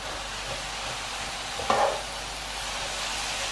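Vegetables seasoned with sauce and ground black pepper cook in a pan, giving a soft, steady sizzle with one brief louder stir or clatter midway, close by and without speech.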